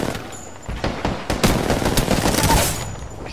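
Gunfire in the battle royale shooter Apex Legends comes as a rapid, irregular run of sharp shots and bursts, close and steady over continuous combat noise, with no talking.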